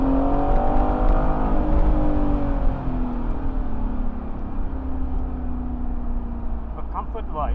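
A 2021 Aston Martin Vantage Roadster engine burbles and blips on the overrun while driving in Dubai, loud and close, with a falling tone and crackling pops near the end.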